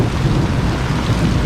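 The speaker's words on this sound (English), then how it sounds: "caught in a violent and sudden tropical rainstorm that flooded much of Jaco" A violent, sudden tropical rainstorm floods the streets of Jaco, Costa Rica, heard as a dense, loud, continuous roar of heavy rain with a deep low rumble underneath, close and steady throughout.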